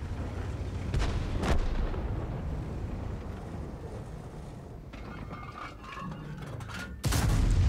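Booming tank gun shots from an ISU-152 in World of Tanks: two blasts close together early on, a stretch of low rumbling battle noise, then a third loud shot near the end.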